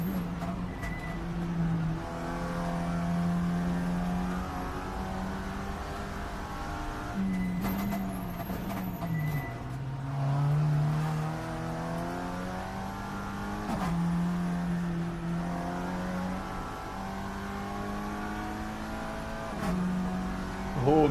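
A Hyundai Elantra race car in a racing video game drives on continuously, its engine droning and rising and falling through gear shifts, with a brief tire squeal and no talk over it.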